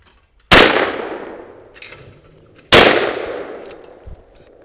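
.410 TriStar Viper G2 shotgun fired twice at sporting clays outdoors, two sharp loud reports about two seconds apart, each trailing off in a long echo.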